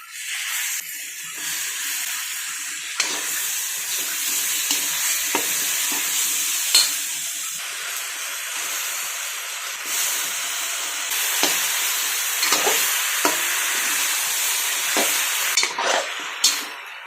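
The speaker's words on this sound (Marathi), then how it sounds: "चिरलेल्या बटाट्याच्या काचऱ्या आहेत ना त्या अशा पाणी निथळून याच्यामध्ये टाकून घेऊयात" Sliced potatoes fry in a hot pan with a continuous loud sizzle, broken by intermittent scraping clicks as they are stirred; no one speaks.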